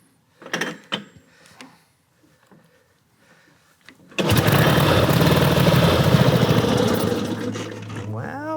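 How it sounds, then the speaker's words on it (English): An Indian motorcycle, cold and hard to start, cranks in a few short bursts with a voice briefly between attempts, then catches and roars into a loud, steady idle that settles slightly lower toward the end. "First the kickstand, now the bike is hard to start."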